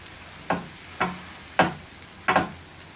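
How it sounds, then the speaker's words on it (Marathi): A buttered sandwich set on a hot grill pan gives off a steady soft sizzle, punctuated by four short scraping thuds spaced about half a second apart, close and fairly loud with no talking. "आता हे जे सँडविच आहे त्याची बटर लावलेली जी बाजू आहे ती आपण ह्या पॅनमध्ये ठेवूया."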